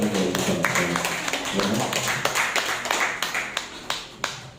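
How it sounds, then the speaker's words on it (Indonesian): A small gathering of teachers clapping, scattered individual claps with a loose uneven rhythm, sharper distinct hits toward the end, mixed with talking voices in the room. "Kasih tepuk tangan dari kita."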